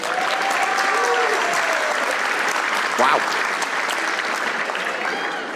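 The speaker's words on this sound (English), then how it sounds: "some of you guys clapped very strongly there" Audience at a Christian comedy show claps hard in sustained, dense applause, with a speaker's voice and a short exclamation rising briefly over the clapping.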